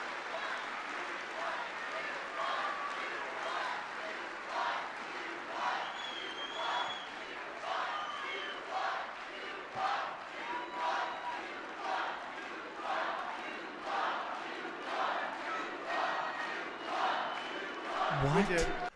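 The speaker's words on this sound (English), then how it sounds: "That's what you hear from the crowd." Crowd at the CPAC conservative political conference chanting in a steady rhythmic cadence throughout, loud and close, voices blending into a continuous roar with repeated syllable pulses.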